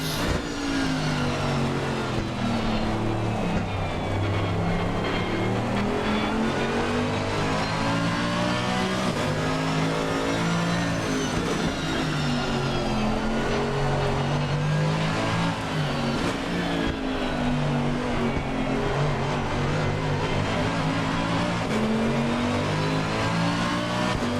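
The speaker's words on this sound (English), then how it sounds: "Definitely hear that traction control trying to kick in, try to get the power down in these soggy conditions." A GT3 race car in Assetto Corsa Competizione on wet track at Zandvoort, its engine note rising and falling continuously with stuttering, choppy cuts as traction control intervenes, loud and close throughout.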